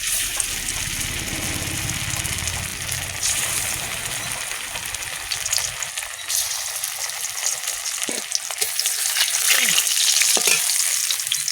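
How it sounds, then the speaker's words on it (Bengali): Eggplant chop fritters drop into hot oil and fry with a steady loud sizzle and crackle, the bubbling growing brighter and busier toward the end, close up with no talking. "এবার তেলে ছাড়বো"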